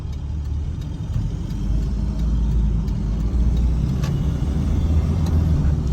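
A 2003 Toyota Sport Cruiser 2.5 D4D 4WD is being driven, its diesel engine a steady, close, low rumble with road noise running throughout, and no talking.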